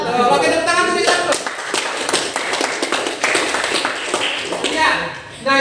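Students in a classroom clapping hands together, a burst of fairly near, sharp claps after a moment of talk, tapering off, with voices heard at the start and end.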